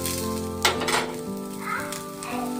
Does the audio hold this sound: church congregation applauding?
no